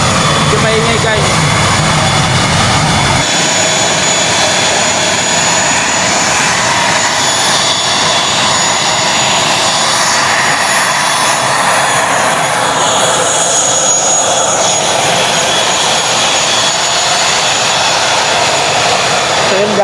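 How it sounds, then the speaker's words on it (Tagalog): Loud aircraft engines roar at Busuanga airport, a broad close jet and propeller wash that drops in its low end after a few seconds and then holds steady while a voice talks over it. "medyo maingay yung aeroplano"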